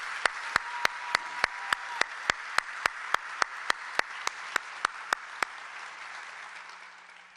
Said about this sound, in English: Would you please give these schools and their systems a round of applause?